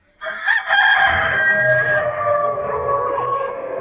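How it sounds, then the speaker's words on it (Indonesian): A hen crows loudly and close by in one long, drawn-out call that starts abruptly and trails off slowly, with no talking. "Ayam betina berkokok, dunia terbalik."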